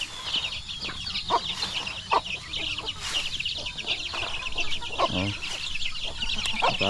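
Farm chickens and chicks clucking and peeping as they are fed, producing a busy, overlapping chorus of short calls and cheeps at moderate distance that continues throughout.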